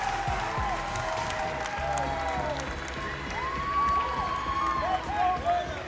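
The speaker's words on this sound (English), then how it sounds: "It is loud in this arena" A loud arena crowd cheers and claps through a women's college gymnastics routine between Maryland and Ohio State, a broad roar with a commentator talking over it.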